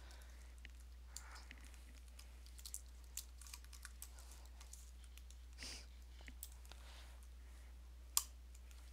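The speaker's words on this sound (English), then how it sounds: "I tried clicking the numbers on the keyboard" Computer keyboard keys clicked while playing Minecraft Survival Games, soft scattered taps spread irregularly across several seconds at close range, with one sharper click near the end.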